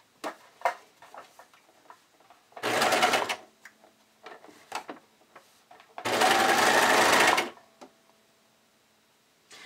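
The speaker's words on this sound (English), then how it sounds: "I'm going to stitch through all these layers on my serger." A serger stitches through layered fabric and lining in two short, fast bursts of whirring, separated by quiet clicks and light handling noises as the fabric is lined up.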